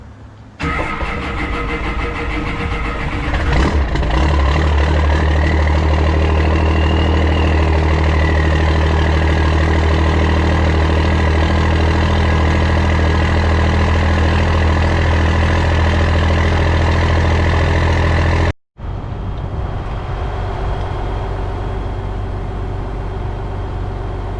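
Peterbilt semi truck diesel engine idling after a cold start, a loud, steady low rumble that runs close and continuous for the whole stretch, cutting out briefly near the end before resuming, with no talk.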